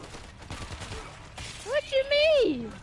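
Bursts of gunfire in World War Z crackle in quick clusters during the first part, then a voice talks loudly over the end.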